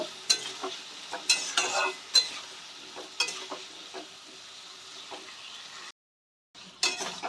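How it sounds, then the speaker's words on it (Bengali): Potatoes frying in a pan with turmeric powder, a moderate sizzle broken by repeated scraping stir strokes at an uneven rhythm, with a short silent gap near the end, no talking. "আলুগুলো আমি সুন্দর করে ফ্রাই করে নেব।"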